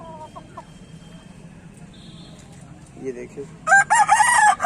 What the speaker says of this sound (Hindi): ये देखिए ये मुर्गा 1 नंबर का मुर्गा है।